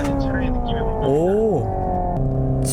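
Hyundai Ioniq 5 N electric performance car accelerating on a race circuit, its synthesized engine tone climbing steadily, then surging and sweeping up sharply as N Grin Boost engages before settling into a higher steady drone, with a voice talking over it.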